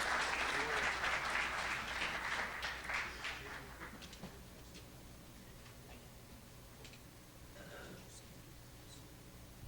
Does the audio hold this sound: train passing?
no